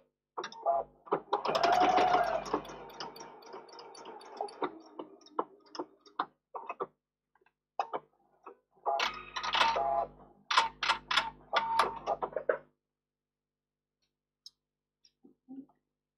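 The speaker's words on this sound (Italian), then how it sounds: "Adesso sto cucendo un quarto" Sewing machine stitching a quarter section of a fabric mouse pincushion, heard in several bursts of rapid mechanical whirring separated by pauses, fairly close and alone, with scattered ticks and clicks between runs.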